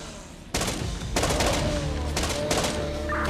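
Soldiers in the zombie survival game Infection Free Zone open fire, with loud sustained bursts of gunfire starting abruptly after a quiet moment, rattling in several dense volleys with brief gaps and no speech.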